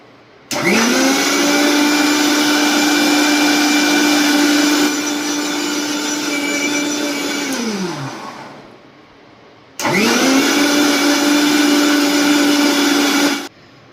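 A kitchen blender grinding mango pieces with milk into a mango mastani shake, a loud close whirring motor that runs about eight seconds, stops, then starts again for a second run of about four seconds.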